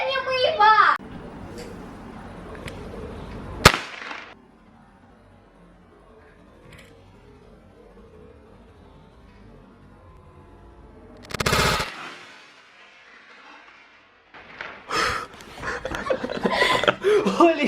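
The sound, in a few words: firecracker thrown from a window exploding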